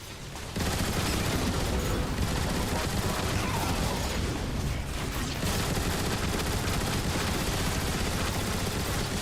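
Dense, continuous gunfire pours down from windows in the Transformers: War for Cybertron orbital station battle, a loud unbroken barrage of rapid shots and bursts that holds steady throughout.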